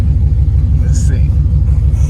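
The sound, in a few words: $275 auction Camaro SS engine rumbling while driving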